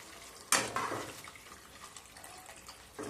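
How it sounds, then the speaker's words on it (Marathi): Water poured into a drumstick and potato curry in a pan, a sudden splashing gush that starts sharply, tapers into a softer trickle, then gives a brief second splash near the end; no talking. "आणि तुम्हाला लागेल एवढं पाणी यामध्ये घालायचंय।"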